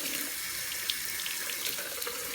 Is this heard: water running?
yes